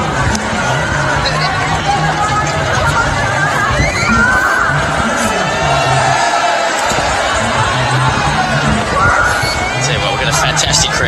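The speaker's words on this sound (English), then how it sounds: "Fantastic crowd in here today." A packed crowd at the 2017 Hong Kong Super Sixes cricket final, Pakistan versus South Africa, roars and buzzes steadily throughout. The dense cheering stays loud the whole time, with commentators talking over it.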